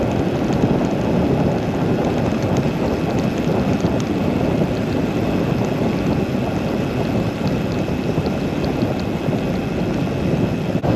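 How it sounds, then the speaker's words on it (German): Heavy rain pours down during a gravel bike ride, a dense, loud, steady hiss and roar that fills the whole stretch without a break and with no voices. "jetzt fängt es richtig an zu regnen"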